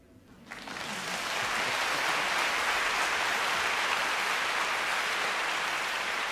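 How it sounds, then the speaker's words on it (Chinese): A concert audience at the 2022 Presidential Office concert bursts into applause for the performers. It swells quickly and holds as a dense, steady wash of clapping, with no talking. "让我们继续的用掌声，谢谢所有的表演者"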